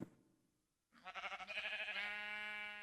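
A sheep in the Minecraft video game bleats once, a clear wavering call rising after a short quiet pause, close and alone.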